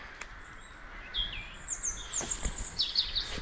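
Birds in a country park, including woodpeckers, finches and robins, call and chirp in short bright bursts at a moderate distance over a quiet outdoor background, with no talking.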